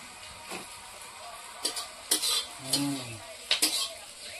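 Panch phoron whole spices hit hot oil in a village kitchen, with a soft sizzle beneath several sharp clinks and scrapes of a utensil against the pan, close and fairly quiet, in bursts rather than a constant hiss.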